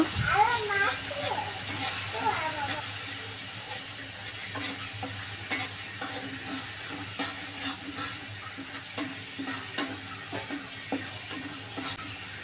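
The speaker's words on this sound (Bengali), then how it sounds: "এখন ভালো করে নাড়াচাড়া করে নেব।" Cauliflower pakoras for a spicy cauliflower 65 dish being stirred in a frying pan, with a steady soft sizzle and intermittent scraping and clinking of the spoon, moderately close and fairly quiet.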